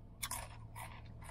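Crunchy bites into a Taco Bell Beefy Fritos Burrito filled with beef, Fritos chips and cheese sauce, heard as close, crisp crackling bursts of chewing over a low steady background hum, with no talking.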